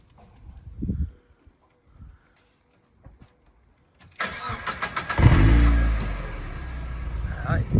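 A 21-year-old Mazda MX-5 NBFL fitted with a sport exhaust silencer starts up after quiet handling noises. It settles into a loud, steady idle with a low rumble and a short rev near the end.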